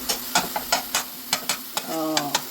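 A gongura dish fries in a pan, with a soft sizzle under quick, regular scraping strokes of a spoon and a brief voice near the end.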